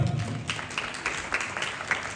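A church congregation claps at a Pentecost service, a short burst of scattered hand claps in a room.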